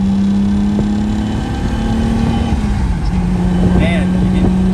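Honda Civic on its first drive, a continuous close engine hum with a shifting tone as the car accelerates and changes gear, heard from inside the cabin.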